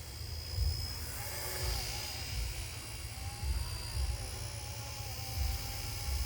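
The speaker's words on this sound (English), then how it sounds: "It's a beautiful little helicopter, 1/48 scale." A small RC Era C032 UH-1 Huey 1/48 scale model helicopter flies nearby, giving a steady high-pitched rotor and motor whine with slight pitch wavers, continuous throughout and fairly loud.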